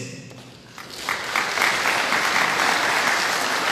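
A seated audience at a public governance course in Andahuaylas breaks into applause, swelling after a quiet start into steady, full clapping that holds to the end.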